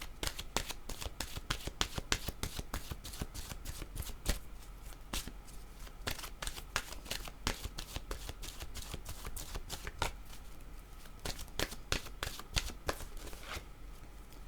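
A deck of oracle cards is shuffled close up, with a continuous run of crisp, rapid riffling flicks and taps lasting the whole time, with no talking.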